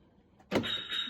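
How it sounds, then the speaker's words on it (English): An electric aerial motor on a Toyota Supra twin turbo JZA80 with the 2JZ engine starts with a sudden onset and runs as a steady whine. The car has been laid up for six years. "that is the electric aerial"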